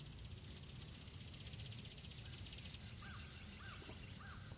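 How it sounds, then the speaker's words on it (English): Quiet outdoor ambience at dawn with a few faint, distant bird chirps over a soft insect hum and low background rumble. "The birds and stuff are starting to get active."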